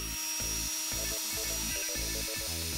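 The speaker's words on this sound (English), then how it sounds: "I'm going to use my Dremel on the setting number 6" A Dremel rotary tool on speed setting 6 grinds a Joy-Con button, giving a steady high whine broken into short, repeated bursts as the bit touches and lifts off the plastic.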